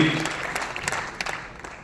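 Applause from the crowd at a Hindi poetry and political event, a thick wash of clapping with a few sharper individual claps standing out as it slowly fades over nearly two seconds.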